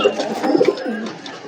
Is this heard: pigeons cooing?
yes